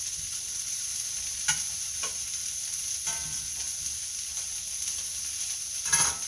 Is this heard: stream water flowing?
no